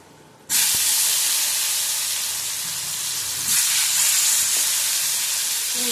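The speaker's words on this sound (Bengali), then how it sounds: "ভালো করে ফোড়নটা ভেজে নেব আলু দিয়ে দিলাম" Potatoes hit hot oil with panch phoron tempering spices, setting off an abrupt, loud, steady sizzle and hiss that carries on close up and swells slightly partway through.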